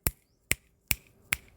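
Four crisp finger snaps, loud and close, spaced roughly every half second with nothing else between them.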